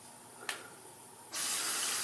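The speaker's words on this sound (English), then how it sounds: "just gonna rinse that off, set that aside." A makeup brush is rinsed under a running bathroom tap: after a brief clink, the water bursts on into a steady, close, broadband gush that continues to the end, with no talking.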